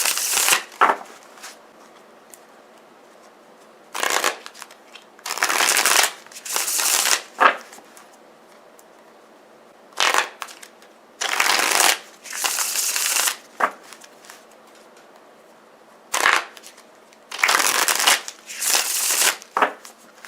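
A tarot deck is shuffled in short loud bursts of riffling and flicking cards, separated by quiet pauses, close up and with no speech.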